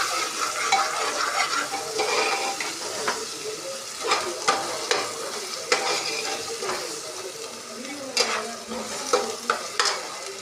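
Garlic tempering sizzles steadily in a pan while a utensil stirs and scrapes in repeated strokes, close and fairly loud, with no speech.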